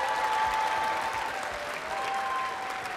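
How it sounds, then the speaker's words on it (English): An audience in a school gym claps during a winter pep assembly, steady applause with a faint tonal hum running beneath it. The applause stays dense and even from start to end. "Let's give them a huge round of applause."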